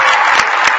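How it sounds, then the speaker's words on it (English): A short burst of audience applause for children at a New York City service event, bright clustered clapping from a crowd, loud and brief. "Give a round of applause for them"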